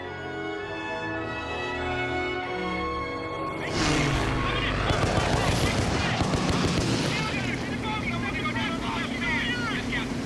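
Machine gun fire in short bursts, beginning partway through as dense rapid rattling over a loud, steady engine drone, with sustained tonal music-like lines running beneath from the start.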